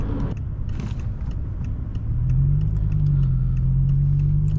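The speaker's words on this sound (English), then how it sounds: "This was just such a joy, listening to this engine sound." A 2007 BMW M6 V10 engine rumbles steadily nearby, its deep drone swelling louder and fuller after a couple of seconds.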